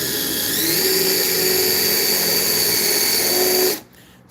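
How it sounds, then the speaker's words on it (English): A power drill drives a screw through a board into metal in one steady, high whirring run of several seconds, close and loud, then cuts off abruptly. "It's best to actually drill it by going through backwards with this kind of screw."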